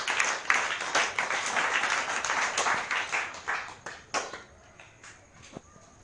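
A church congregation claps and applauds, dense loud clapping for about four seconds that thins into scattered claps and fades near the end.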